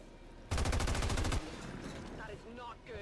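Automatic rifle fire rattles in XCOM 2, a loud rapid burst of shots lasting under a second, followed by quieter game ambience and a voice speaking.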